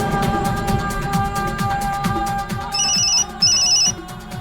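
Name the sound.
mobile phone ringtone ringing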